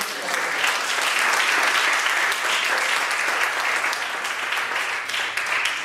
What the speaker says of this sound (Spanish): ¿No le pueden dar un fuerte aplauso al Señor?